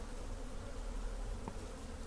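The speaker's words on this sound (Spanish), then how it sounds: "donde las abejas vienen y sacan su dulce para llevar a su enjambre" Bees buzzing around sugarcane bagasse at a panela mill in Colombia, a steady low drone that holds evenly throughout with no voices.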